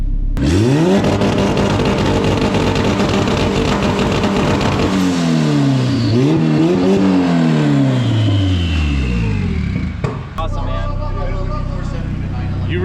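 An Acura RSX with an H22a engine revs hard on a dyno, loud and close. The engine note climbs and falls in long sweeps, dips around the midpoint, then surges again before easing off.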